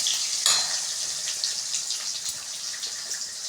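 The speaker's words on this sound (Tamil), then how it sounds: "லைட்டாக சால்ட் போட்டு நம்ம வதக்கிக்கலாம்." Food sautés with salt in a pan, a close, steady hiss of frying with a faint clink near the start and small crackles throughout.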